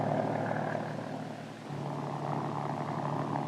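Steady whine and drone of a Lycoming turbine engine in a Kaman helicopter, continuous with a low humming tone, heard alone without talk.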